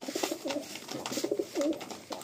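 Giribaj pigeons in a loft give soft, low, throaty coos in short repeated phrases, faint and close by, with no talking.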